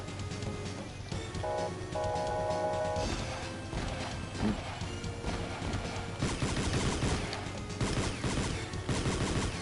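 Rapid bursts of blaster gunfire from the Nintendo DS game Mega Man ZX Advent crackle steadily over busy game sound and brief musical tones, growing denser and louder toward the end.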